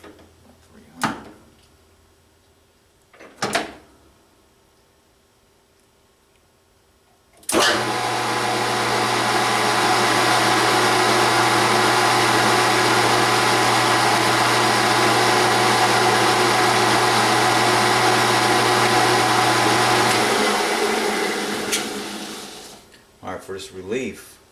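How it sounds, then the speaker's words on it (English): A metal lathe slowed down for single-point threading a suppressor end cap runs steadily with a loud, even whir and low hum for about twelve seconds, then winds down; a couple of sharp knocks come before it starts. "We're threading. Slow the lathe down."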